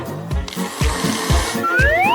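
Kitchen blender whirring in short repeated pulses while mixing waffle batter, close and fairly loud, with a rising whine near the end.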